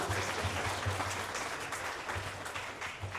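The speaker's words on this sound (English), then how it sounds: "a big round of applause first to welcome them to Kota Kinabalu, Sabah" Dense applause from an audience at a property investment event in Kota Kinabalu, Sabah, welcoming the speakers; steady clapping fills the room throughout with a faint low hum beneath.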